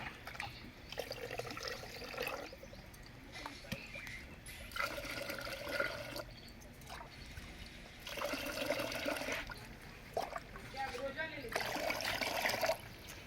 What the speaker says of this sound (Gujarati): આમાં આમાં આપણે પાણી એડ કરશું અને અલગ અલગથી બેને પલાળવાની છે